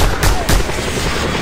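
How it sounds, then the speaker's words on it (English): Gunfire and exploding barrels in Just Cause 2, two heavy booming shots close together at the start followed by rumbling echo. "I just shoot barrels."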